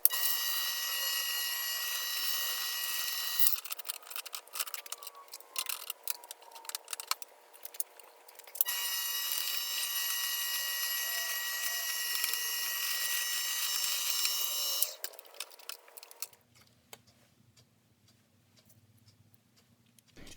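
A steady high-pitched whine from an old electric drill turning a benchtop lathe crank runs in long stretches, broken by irregular clicking and rattling, then cuts out to a faint low hum.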